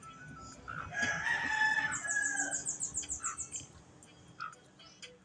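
A rooster crows once, a loud close cock-a-doodle-doo followed by a series of rhythmic clucks and a few softer calls, with no talk.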